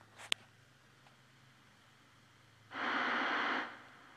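A voice imitates quiet CB radio static in a truck, a soft hissing burst of under a second after near silence with a faint click at the start.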